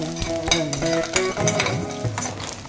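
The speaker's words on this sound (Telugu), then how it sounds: "బాండీలో నూనె వేడయ్యాక ఉల్లిగడ్డ ముక్కలు, పచ్చిమిర్చి ముక్కలు, కరివేపాకు వేసి కొంచెం వేగనివ్వాలి" Onions, green chilies and curry leaves sizzle in hot oil in a pan, with steady frying crackle and a few close stirring scrapes and clinks, loud and without talk.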